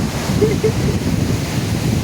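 Arabian Sea waves rushing on a Kerala beach with strong wind buffeting the microphone, a continuous roar from start to finish.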